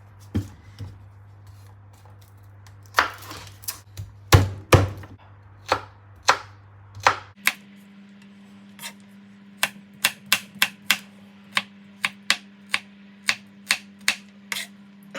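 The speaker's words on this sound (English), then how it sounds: "And then we're gonna chop some garlic here." A knife chops garlic on a cutting board in a home kitchen, with sharp wooden taps, some loose and irregular, then a fast, steady run of close, distinct strokes under a faint background hum.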